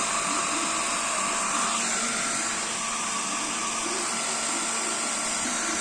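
A parrot imitates a mechanical noise, holding a loud, continuous whirring drone like a motor that runs unbroken with no talking.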